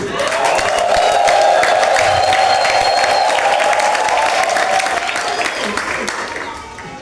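A Swahili church congregation during Sunday worship fills the room with loud, sustained ululation over a bed of clapping and crowd noise, holding steady before fading toward the end.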